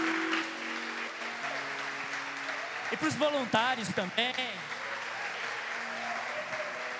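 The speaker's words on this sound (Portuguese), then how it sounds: "Uma salva de palmas para essa equipe de mídia também" Applause from a church congregation for the media team and volunteers during a worship service, a steady wash of clapping from start to finish while someone speaks over it midway.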